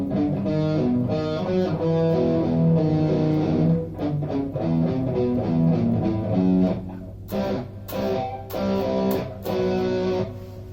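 Distorted electric guitar on the bridge pickup plays a fast chromatic line from a song, with steady sustained notes giving way to choppier, clipped phrases toward the end; no voices.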